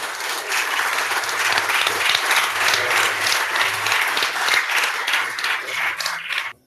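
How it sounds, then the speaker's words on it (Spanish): Audience at a poetry reading session applauds after a poem, a full, steady wash of clapping and faint crowd murmur that carries on evenly before cutting off abruptly at the end. "Otro aplauso para esta."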